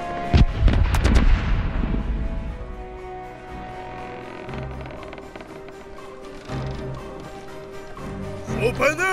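Heavy booming ship cannon blasts open the clip in the pirate game Corsairs Legacy, a rapid cluster of loud shots, followed by rumbling and clatter with a couple of sharper bangs near the end.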